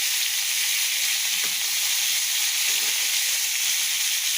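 Pieces of rohu fish fry in oil in a pan, giving a loud, steady, close sizzle and hiss throughout, with no talking.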